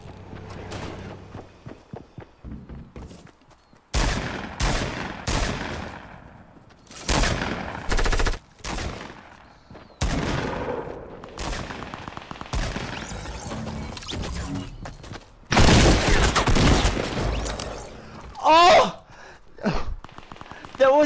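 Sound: SMG gunfire in a video game

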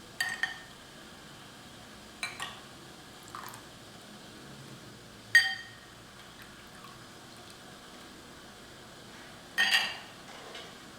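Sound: ladling water out of a wok

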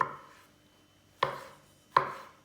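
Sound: knife chopping tomato

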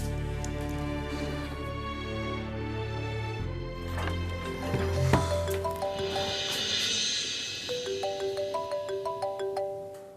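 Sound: mobile phone ringtone

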